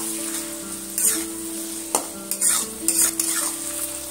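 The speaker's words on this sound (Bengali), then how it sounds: "দিয়ে আমি কিছুক্ষণ ধরে এইভাবে কষাতে থাকবো।" Ginger garlic paste sizzles with onion and tomato in a pan, a close, steady frying hiss broken by a few stirring scrapes over a low, constant background hum.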